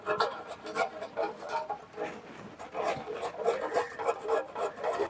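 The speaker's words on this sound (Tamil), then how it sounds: "காய் சுரண்டியில் இந்த சின்ன கண்ணில் சுரண்டி எடுத்துக்கலாம்" Bottle gourd scraped against the small holes of a vegetable grater in a village kitchen: quick repeated rasping strokes, close and fairly soft, in an uneven rhythm.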